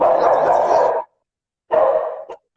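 Pet dogs bark loudly and close by in a home during a Spanish-language interview, one long burst of barking, a pause, then a second burst trailing off into short yips.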